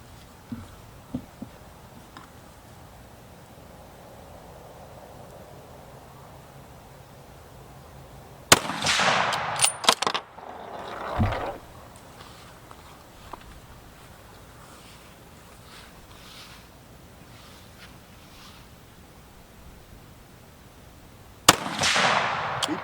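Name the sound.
rifle shots from a Browning X-Bolt 6.8 Western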